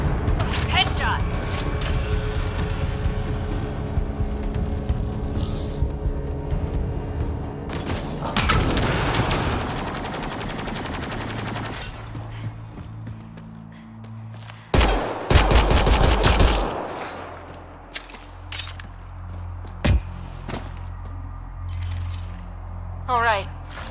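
Rapid gunfire bursts and single shots from a firefight in the sci-fi shooter Mass Effect: Andromeda on PS4, with booming impacts and mechanical clatter mixed under ongoing battle music and combat voices calling out.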